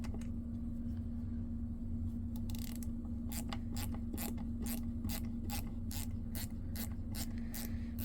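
A ratchet screwdriver backs out a Phillips screw, giving a quick run of sharp, evenly spaced ratcheting clicks over a constant low mechanical hum, with no speech.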